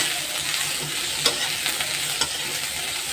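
Onions and green chilies frying in a pan, a steady close sizzle with a couple of sharp crackling pops standing out over the continuous hiss.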